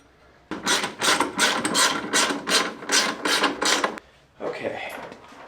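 Ratchet wrench tightening bolts into a Jeep bumper bracket during a Poison Spyder Defender High-Line bumper install, a run of rapid ratcheting clicks in close, loud bursts, a short pause, then a final shorter burst.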